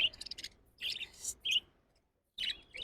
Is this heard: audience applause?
no